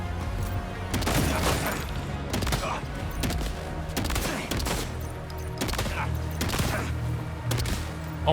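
Gunfire in Death Stranding 2, heavy repeated shots booming roughly every second in a steady rhythm over a dense low rumble, loud and close throughout.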